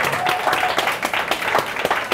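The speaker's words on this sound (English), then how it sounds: "Yes, a big round of applause for chocolate." Brisk applause from a small science café audience gathered for a chocolate talk, with sharp overlapping claps in an even, lively rhythm that fills the room.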